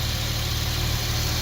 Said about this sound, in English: The engine runs good. Seems to run fine.